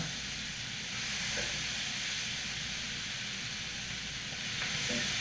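Seasoned fish, spice side down, blackening in a hot pan gives a steady, broad sizzling hiss that holds even and fairly loud throughout, with no talk.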